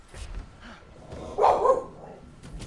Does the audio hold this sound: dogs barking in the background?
yes